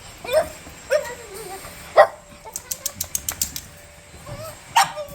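A few short, sharp yips and barks from a small dog, nearby, with brief pauses and a quick patter of lighter clicks in between.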